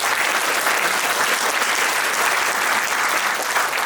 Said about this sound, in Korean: 오늘 그 토론해 주신 우리 조추영 교수님께 큰 박수 한번 부탁드립니다